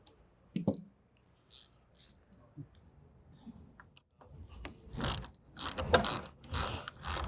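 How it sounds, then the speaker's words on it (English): Ratchet clicks in short bursts as a 10mm socket undoes the negative battery terminal on a VW Mk7 Golf R, the clicking quiet at first, then louder and busier toward the end. "using a 10mm wrench or socket, we'll start by undoing the negative terminal first"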